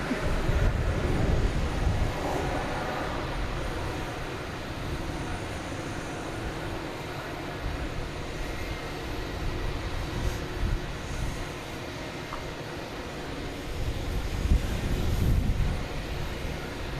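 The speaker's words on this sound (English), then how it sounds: "There's Delta coming in from Atlanta in A321" A Delta Airbus A321 jet airliner arriving at Boston Logan Airport, a continuous low engine roar at moderate distance that holds steady and swells slightly near the end, with no talking.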